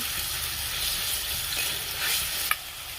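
Tomato and cashew paste stirred in a frying pan for a Bengali chhanar kalia, a steady close sizzle with soft scraping strokes and one sharp clink near the end.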